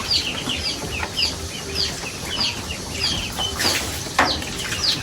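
Several chickens cluck and chatter nearby in a busy farmyard, eating fallen feed, with occasional wing flaps and scuffling among the steady murmur of the flock.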